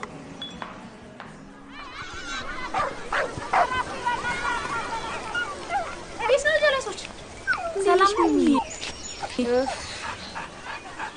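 Barking, whimpering and yipping from a dog in a radio drama scene, rising into loud excited barks in the second half while people talk over it.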